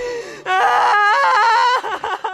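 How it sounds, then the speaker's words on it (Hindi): Loud, sustained scream from a horror story, a wailing, wavering cry that holds at full strength for over a second before breaking into shorter sobbing bursts, close and alone with no talk. "एक जोर की चीख सुनाई दी"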